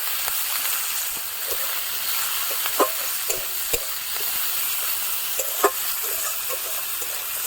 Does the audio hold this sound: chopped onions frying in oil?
yes